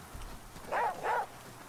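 Two short barks or yelps from the dog companion in The Flame in the Flood video game, evenly spaced and fairly prominent over a quiet game background.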